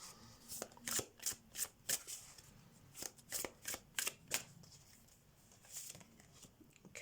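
An animal oracle card deck is shuffled by hand at close range, producing a quick run of crisp riffling bursts in an uneven rhythm, followed by a softer pause and a final shuffle.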